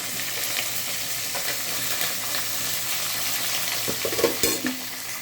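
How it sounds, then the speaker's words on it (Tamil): Onions and curry leaves sizzle steadily in a hot pan while a spoon stirs them, a continuous frying hiss with a few scraping knocks near the end, close and without talk. "இப்போ வெங்காயம் நல்லா வதங்கிட்டோம்"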